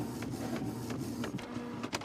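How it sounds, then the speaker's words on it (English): A printer runs steadily, printing barcodes onto eraser covers with a continuous mechanical whir and soft rhythmic clicks, close and alone. "Grace and Nero start printing the barcode on the eraser cover."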